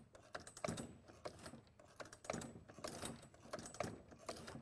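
A Talon saw sharpener and dual tooth setter machine advances along a saw blade, giving off quiet, regular clicking and ratcheting mechanical strokes in a repeating rhythm.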